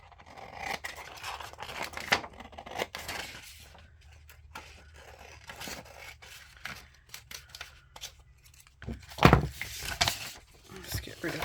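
Scissors snip through paper while crafting an envelope notebook, a steady run of short crisp cuts and rustles, fairly faint and close, ending with a louder paper crinkle.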